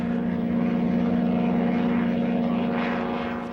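A light aircraft flies over coastal desert dunes in failing evening light, its propeller engine droning steadily and loudly with a strong low hum throughout, easing slightly at the end.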